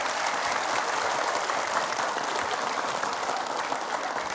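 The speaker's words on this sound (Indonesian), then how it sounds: "terima kasih tepuk tangan" An audience gives a dense, continuous burst of applause at steady loudness, with no voices heard over it.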